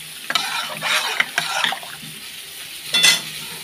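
Lentils tipped into a pan of fried spices sizzle sharply, with stirring scrapes in irregular bursts and a louder splash of frying near the end; no talking.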